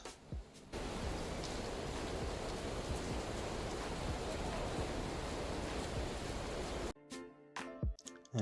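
Steady rain falling in Lusaka, a dense even hiss of drops that holds at constant level for several seconds before cutting off abruptly near the end, with no voices.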